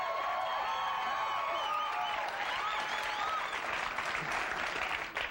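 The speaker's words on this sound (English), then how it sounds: "Please give a warm round of applause for Bill Nye, the Science Guy." A studio audience at a comedy show applauds warmly, the dense clapping mixed with a few whoops and cheers, steady and full for several seconds.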